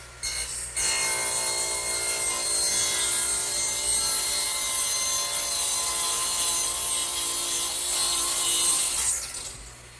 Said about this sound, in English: Now, I will use the radial arm to cut these.